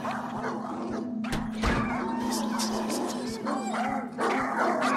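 Dog barking and whimpering in a Thai horror video game, several sharp barks over a steady game drone with someone talking throughout.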